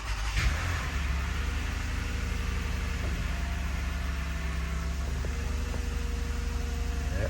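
A 2013 Toyota Sienna Limited engine runs after its water pump and idler pulley were replaced, a steady, even idle hum close by with no talking.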